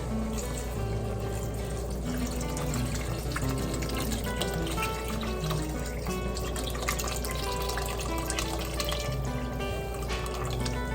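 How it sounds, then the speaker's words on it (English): Chicken broth pours steadily into a soup pot for chicken enchilada soup, a continuous close splashing gurgle of liquid running without pause for several seconds. "I'm going to add in our chicken broth."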